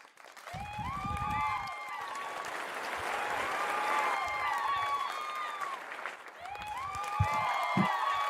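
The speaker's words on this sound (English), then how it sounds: "So a big round of applause to them." A conference audience gives a round of applause for the organizers, steady dense clapping with some talk over it, fairly distant and soft.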